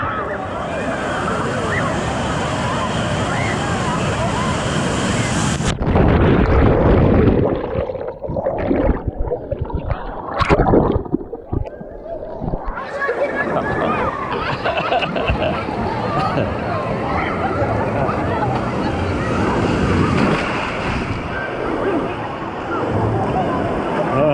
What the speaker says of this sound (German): Jetzt werde ich die Miri filmen, wie sie umgeschmissen wird von der Welle